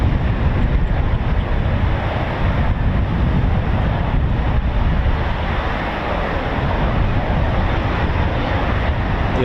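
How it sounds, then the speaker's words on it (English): Eurofighter Typhoon FGR4 jets with EJ200 engines at RAF Coningsby produce a loud, continuous, broad roar that holds steady throughout without talk, partly buffeted by wind. "Listen to this. Oh yeah, that's our EJ200 engines."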